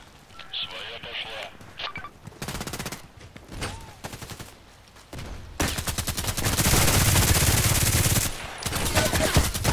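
Weapons fire in the Contract Wars shooter, with bursts of single shots and then long, loud, continuous automatic fire, with a player talking at times over the shooting.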